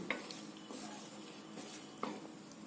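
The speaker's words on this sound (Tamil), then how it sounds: "நல்லா கலக்கி விடுங்க. தண்ணி கொதிக்கிட்டுங்க." Spiced water with rock salt being stirred in a cooking pot as it comes to a boil, with faint scraping and light sloshing strokes and a couple of sharper taps against the pot, close and quiet.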